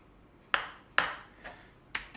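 Knife gently scoring the fat on a raw duck breast in a crisscross pattern, heard as four short, crisp ticks spaced about half a second apart, close and quiet against a near-silent background.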